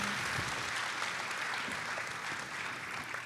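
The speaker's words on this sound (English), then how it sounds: "can we give one more round of applause to our student panelists?" Steady audience applause for student panelists at a fall orientation for parents and supporters, a dense, even patter of many hands clapping, moderately distant and holding throughout.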